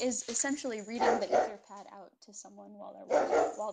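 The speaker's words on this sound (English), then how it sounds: "Sorry for the barking." A dog barks a few times nearby while a person keeps talking over it.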